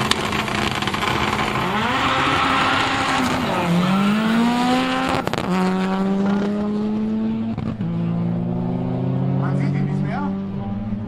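A Seat Ibiza races at the Viertelmeile Brilon 2023 quarter-mile drag event, its engine screaming up through the gears in repeated rising pitch sweeps, loud and close, while a commentator talks over the noise.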